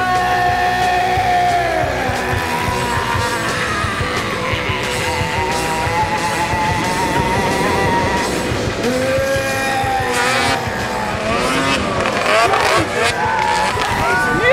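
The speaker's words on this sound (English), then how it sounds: "Going by sled!" A snowmobile roars past close by, its engine whine rising and falling as it goes, under steady shouting and excited voices.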